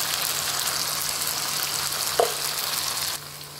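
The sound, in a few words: spices sizzling in hot oil while cooking egg curry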